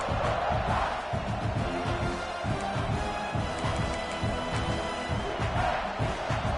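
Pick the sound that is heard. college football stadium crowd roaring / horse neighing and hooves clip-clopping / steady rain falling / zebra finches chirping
college football stadium crowd roaring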